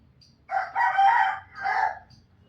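A rooster crows once nearby in a village yard, a clear two-part call rising then trailing off, standing alone over quiet background.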